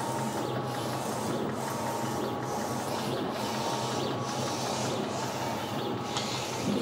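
A DTF printer printing onto film runs steadily, its carriage sweeping back and forth in a regular rhythm of about one pass per second over a continuous mechanical hum, close and without speech.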